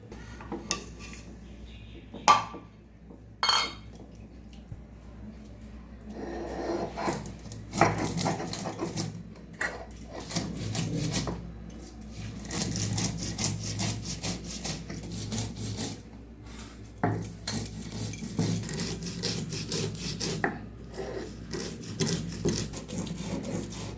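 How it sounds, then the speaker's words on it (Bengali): Green chillies, black mustard seeds, cashews and poppy seeds ground by hand on a stone grinding slab, repeated rough scraping and rubbing strokes in uneven bursts, close, with brief knocks between passes. "বাটির মধ্যে আমি কাঁচা লঙ্কা, কালো সর্ষে, কাজু, পোস্ত এটা আমি বেটে নেবো শিলেতে।"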